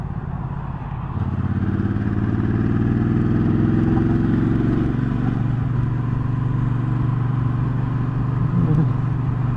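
Engine of a 2019 Triumph Speedmaster motorcycle at steady riding pace, a low loud drone that picks up after about a second and holds to the end, with wind noise.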